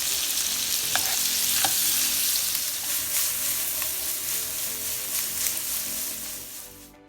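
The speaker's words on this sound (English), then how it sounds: "We're going to drop these shrimp in and let them do what they do." Shrimp frying in butter for a coconut curry, a loud, dense, continuous sizzle close up with faint crackles and pops, slowly easing off toward the end.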